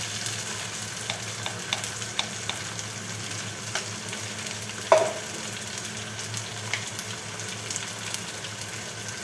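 Ginger and garlic paste sautéing in hot oil for a chicken curry with vegetables: a steady, soft sizzle and fry throughout, with a few faint stirring clicks and one sharper scrape near the middle.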